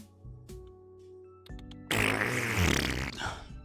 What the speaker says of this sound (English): Stop farting.